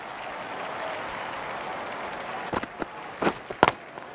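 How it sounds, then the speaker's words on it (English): A stadium crowd in the Don Bradman Cricket 14 video game applauds a century in an India vs New Zealand ODI. The clapping is steady and sustained, with a few sharper bursts of cheering near the end. "The crowd are on their feet applauding the century."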